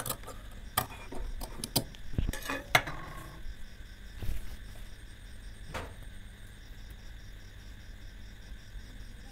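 Scissors snipping cloth for a child's panjabi collar, giving a burst of quick close clicks and cuts early, then sparse single snips over a faint steady background hum, no talking.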